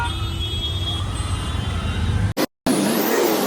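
Heavy road traffic heard from inside an auto rickshaw in an Indian city, a dense continuous rumble of engines and road noise with a brief dropout near the end.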